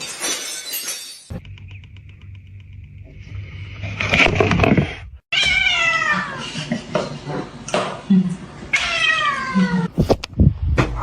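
A little kitten meows several times in short, rising cries, mixed with a sharp breaking-glass crash, thumps and clatter, a brief dropout of silence, and occasional voices in the background.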